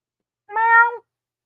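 A pet ginger-owned kitty cat gives a single clear, close meow of about half a second, alone with no talking around it.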